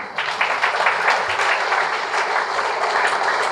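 Steady applause from a rally crowd in Tiruchanur, Tirupati, for Balareddy sir, a dense wash of many hands clapping at even volume throughout, with no talking over it.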